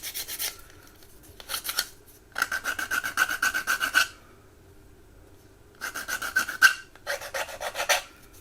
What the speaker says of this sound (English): Sand those off, I think.